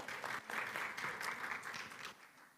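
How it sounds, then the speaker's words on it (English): An audience at a digital innovation pitching session claps politely after a pitch, a faint, steady patter of applause lasting a couple of seconds before tapering off. "let's give a warm round of applause for Wire Barley."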